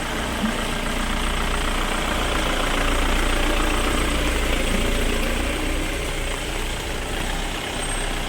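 A large luxury coach engine idling nearby, a steady deep rumble and drone that holds constant throughout.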